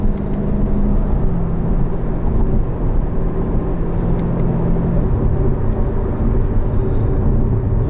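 A 2019 Chevrolet Corvette Z06 Convertible with automatic transmission at full throttle, heard from inside as a loud, continuous deep engine roar and rumble that holds strong for several seconds without a break.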